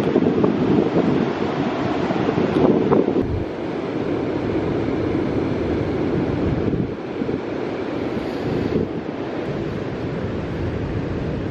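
Powerful ocean waves surge at high tide on the Oregon coast in winter storm conditions, a steady loud roar of broken surf with wind buffeting the microphone throughout, no voices.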